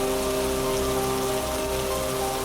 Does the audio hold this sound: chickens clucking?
no